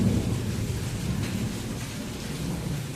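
Thunder rumbles low and steady through heavy rain during a monsoon storm, a continuous loud roar with no talking.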